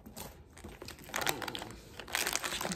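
Crinkling plastic snack bag of hot crunchy curls being handled up close, with irregular crackles that grow louder and busier toward the end.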